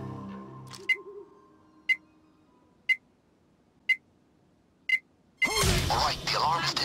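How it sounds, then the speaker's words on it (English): An alarm counts down in the Payday video game (Hoxton Revenge heist) as five crisp, evenly spaced electronic beeps about a second apart, followed by a sudden loud, dense burst of game sound. "The alarm has been activated and it's ticking down."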